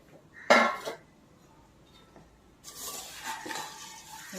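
A utensil scrapes and clinks against a pan while fried poha chivda with red chilli powder is stirred: a sharp metallic clatter near the start, a quiet gap, then a longer rustling, scraping stretch of stirring.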